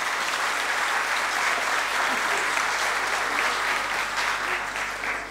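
Audience at a sevdalinka festival in Zvornik applauds young singers with sustained, dense clapping that holds steady and fades slightly at the end.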